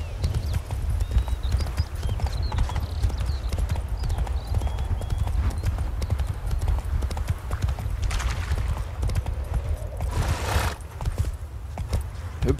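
A horse gallops in the video game The Witcher 3, its hooves pounding in a loud, fast, steady clip-clop rhythm that runs the whole time, with occasional game sounds layered over it.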